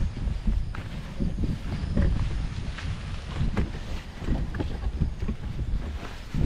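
Cold gusty wind at Lumot Lake buffets the microphone in low, rumbling bursts, rising and falling over several seconds with no talking.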